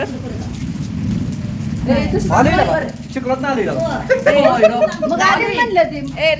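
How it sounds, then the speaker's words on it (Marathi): Steady rain pours down with gusty wind noise, while people talk and laugh over it close by. "पाऊस आणि वारं लय डेंजर वारं सुटलं होतं"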